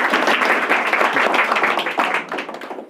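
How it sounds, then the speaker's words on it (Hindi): A classroom of students claps together in a loud, dense burst of applause lasting about three seconds, fading slightly at the end. "भाई ताली बजाओ"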